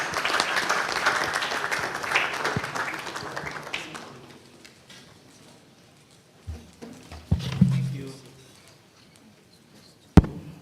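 An audience applauds at the Radiologists Association of Ghana meeting as the chairman takes the stage, a full burst for about four seconds that fades into scattered claps, bumps and a sharp knock near the end.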